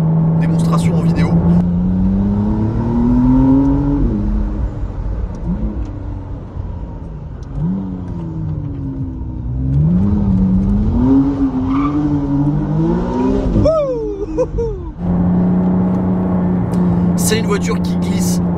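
McLaren Artura hybrid sports car engine rising and falling in pitch as it accelerates hard and slides, revs sweeping up repeatedly, loud and close, with brief higher whines near the end.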